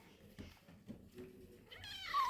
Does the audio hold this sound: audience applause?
no